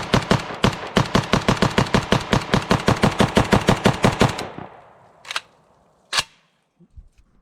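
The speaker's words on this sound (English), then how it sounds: "let's run a mag through the SLR-104FR." An Arsenal SLR-104FR rifle empties a full magazine in a steady, rapid string of about two dozen loud, close shots, followed by a few separate clacks of handling as the firing stops.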